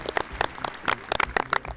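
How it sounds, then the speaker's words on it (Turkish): A studio audience on a Turkish Disney Channel kids' quiz show claps for the winner: a loose patter of separate hand claps, fairly close, with no voices over it. "Alkışlıyoruz."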